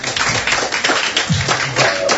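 A small studio audience at a radio festival broadcast clapping for a band, brisk close handclaps over a couple of seconds.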